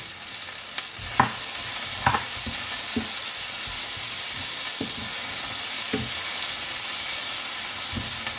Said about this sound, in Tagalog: ginigisa natin ang kamatis, onion, saka garlic